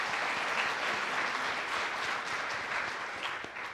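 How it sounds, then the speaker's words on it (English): People at a political town hall meeting give a round of applause, a steady wash of clapping from a sizeable crowd that carries on for several seconds before easing slightly. "And give everyone a round of applause."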